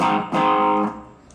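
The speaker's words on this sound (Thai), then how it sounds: "เสียงโอเวอร์ไดร์แบบแบบไม่มีดีเลย์" Two overdriven electric guitar chords through a Korg AX3000G multi-effects unit, gritty and dry with no delay, the second cut short and followed by quiet.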